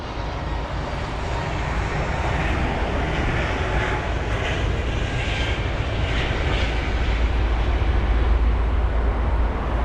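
Air France Airbus A220 airliner at London Heathrow, a steady jet engine roar that swells gradually with deep low rumble, heard alone and fairly close.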